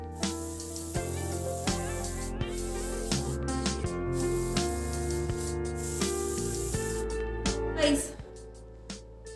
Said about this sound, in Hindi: इस पार्ट में मैं पूरे में हेयर स्प्रे का यूज़ करने वाली हूँ